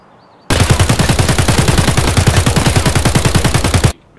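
Rapid automatic gunfire in Escape from Tarkov sounds as a loud, close, sustained burst of about three and a half seconds, with evenly spaced shots at a fast steady rhythm that start and stop abruptly.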